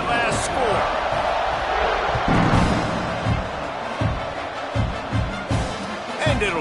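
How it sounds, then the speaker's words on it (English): A football stadium crowd buzzes after a score, a loud steady roar with thumps and bangs scattered through it, under a commentator's voice. "this crowd is buzzing after that last score"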